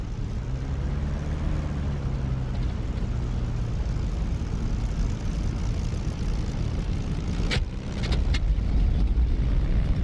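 A P-47 propeller engine starting up in the DCS flight simulator, a steady low rumbling drone that holds evenly, then a few sharp clicks and a slight rise in engine roar near the end.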